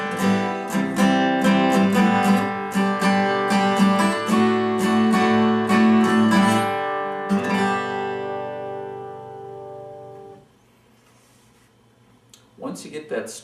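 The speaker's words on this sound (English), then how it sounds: "Now with the playing the chords, it sounds like this, slowly." Acoustic guitar strums the chords of a song slowly in a steady down-up pattern, with bright, ringing strokes. The final chord rings out and fades, and a brief voice comes in near the end.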